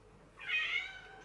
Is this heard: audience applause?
no